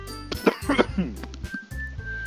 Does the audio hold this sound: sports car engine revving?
no